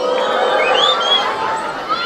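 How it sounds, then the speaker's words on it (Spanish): A festival crowd at an outdoor stage during patronal fiestas in Quezaltepeque cheers and shouts, with high children's voices and whoops rising over a steady roar of many people, loud and continuous for a couple of seconds. "¡Aplauso para él!"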